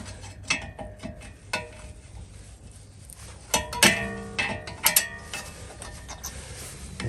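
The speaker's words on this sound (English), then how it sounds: "next is removing the safety pin. securing the brake pads into place." A safety pin holding the pads is worked out of a 2017 Ford Kuga mk2 rear brake caliper, producing scattered metallic clicks and clinks that cluster midway through over quiet workshop background, with no talking.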